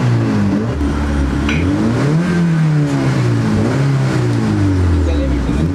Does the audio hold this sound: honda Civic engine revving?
yes